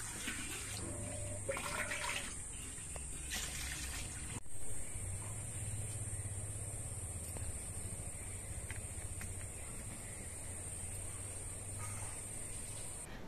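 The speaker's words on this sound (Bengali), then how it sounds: "এবার কড়াইয়ের মধ্যে জল দিয়ে দিচ্ছি।" Water poured into a wok holding eggs for boiling in a home kitchen, a quiet steady splashing stream with a brief louder gush partway through, alone without talk.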